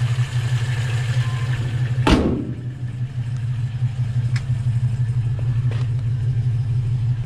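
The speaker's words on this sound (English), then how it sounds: "Nice growly exhaust." A Volvo B18 engine fitted with a Weber 32/36 carburettor idles with a growly exhaust, holding a steady low rumble close by, broken by one brief sharp knock partway through.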